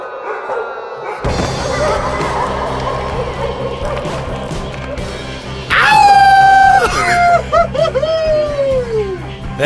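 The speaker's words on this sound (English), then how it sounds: "When you hear the howl, you know we're on the prowl." A dog howls loudly and close, long sliding wails rising and falling over a dense busy background, with a voice present alongside.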